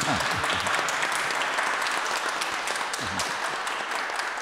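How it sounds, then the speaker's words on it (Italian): Singers applaud their pianist at a press conference, a steady, fairly soft wash of clapping hands that continues evenly without a break. "L'applauso convinto lo sentite dai cantanti"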